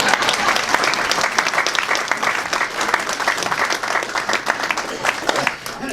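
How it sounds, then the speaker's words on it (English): A breakfast-event crowd in Rockbridge County claps for a former county supervisor's speech, a sustained wash of many hands applauding evenly, fairly close and full, tapering slightly at the very end. "And I have a note to pause here for applause."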